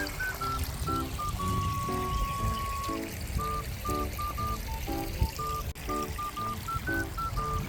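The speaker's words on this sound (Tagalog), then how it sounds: "So ito nga pala yung sapa nila guys" A small stream in a park botanical garden trickles and pours steadily at moderate distance, while bright whistling chirps come in short bursts over the flowing water.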